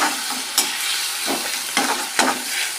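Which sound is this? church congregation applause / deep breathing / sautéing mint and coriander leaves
sautéing mint and coriander leaves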